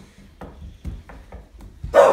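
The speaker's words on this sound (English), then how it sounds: "Why are you barking for? Why are you barking? Stop it." A dog barks a handful of times in quick succession, close by, followed by a louder burst of noise at the end.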